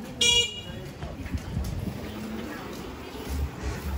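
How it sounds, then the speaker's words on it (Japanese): A motorbike horn gives a short, sharp honk on a busy old-town street in Shanghai, set against crowd murmur and passing traffic, with people chatting nearby. "あのバイク本当クラクションがちょっとうるさいし"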